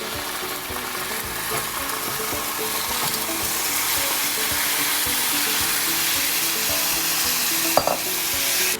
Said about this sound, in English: I'm gonna put a little bit of sesame oil in here. And this beef that's been marinating for about an hour,